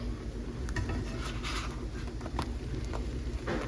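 Fresh milled flour tortillas being flipped on a hot skillet at medium heat, around 450 degrees, on an old stove, with a few light clicks, taps and scrapes of utensil against the pan over a low background hum.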